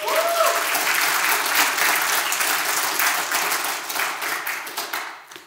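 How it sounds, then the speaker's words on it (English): An audience gives a warm round of applause to a guest at a Friday morning session, with steady, dense clapping that holds at full strength for several seconds and then begins to thin and fade at the end. "Give him a round of applause."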